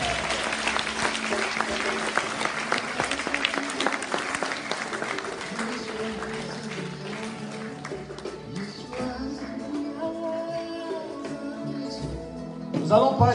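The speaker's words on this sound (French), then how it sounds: "Est-ce qu'on peut acclamer Jésus, Jésus?" A church congregation applauds and cheers in praise of Jesus during a French-speaking prophetic service in Paris, a sustained wash of clapping that swells louder near the end, with some voices mixed in.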